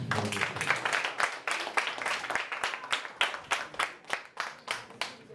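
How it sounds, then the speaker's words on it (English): A gathering at a live primary schools debate broadcast claps in praise to God, with a roughly regular rhythm of about three claps per second, moderately loud and without voices. "How about if we first clap our hands to God?"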